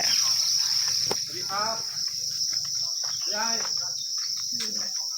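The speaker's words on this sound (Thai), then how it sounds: "มาดูจิ้งหรีดหน่อยจ้า" Crickets at a cricket farm give a steady high-pitched chirping drone that runs throughout while people talk nearby.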